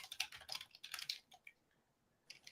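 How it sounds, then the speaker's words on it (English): Quick bursts of close, quiet key clicks from typing on a computer keyboard, followed by a short pause and then a few more keystrokes. "I am so bad at like typing at the same time I'm trying to talk"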